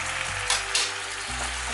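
Red chili powder, turmeric, sugar and salt frying together in a pan, a loud continuous sizzle with two brief scraping strokes of a spoon stirring through.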